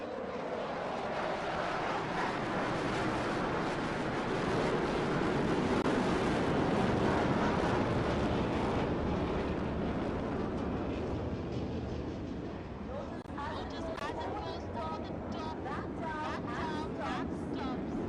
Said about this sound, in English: The aircraft now pulling up.